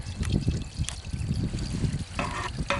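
Water pours and trickles steadily into a deep cattle water trough, a continuous close splashing stream with a few brighter splashes and no talk.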